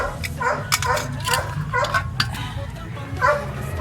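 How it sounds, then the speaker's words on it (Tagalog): A dog barks and yips several times in short bursts, fairly close, over a steady background rumble from a strongly vibrating clothes dryer. "Yan na naman ang aso, kumahol na naman."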